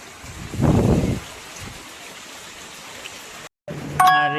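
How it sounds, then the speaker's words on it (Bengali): Heavy rain pours down in a village with a steady, dense hiss, broken early by a brief louder rumble, with a short tonal chime near the end. "আর এই যে বৃষ্টি নামছে"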